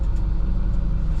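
A 2014 International Terrastar liquid deicing truck with an aluminum body idles steadily up close, its low diesel rumble even and unbroken throughout.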